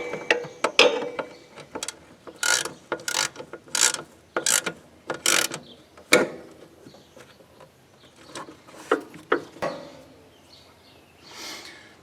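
Bolts on a Craftsman riding lawn mower are tightened with a ratchet wrench, giving bursts of quick clicking pawl strokes in irregular groups with short pauses between them, close and fairly loud.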